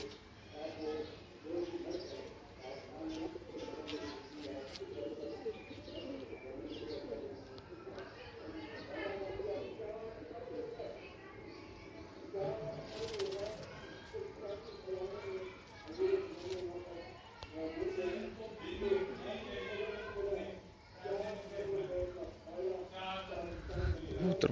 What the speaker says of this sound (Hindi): सारे कबूतर उड़े हुए हैं।